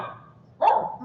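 A single dog bark, fairly close and moderately loud, rising out of quiet room tone after a soft lead-in, with no voices over it.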